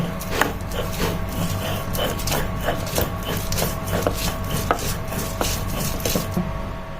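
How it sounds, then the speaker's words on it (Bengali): Dried fish and garlic being ground on a grinding stone, heard as a steady rhythm of close, repeated rubbing and knocking strokes, with no talk over it. "এখন শুটকি আর রসুনগুলো দিয়ে দিয়েছি এগুলো সুন্দর করে বেটে নিব"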